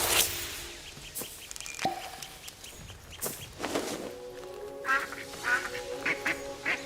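Ducks in the video game Soulframe, several quacks scattered through the stretch, some near and fairly loud, others softer, over a quiet ambient game soundscape with a few clicks and no speech.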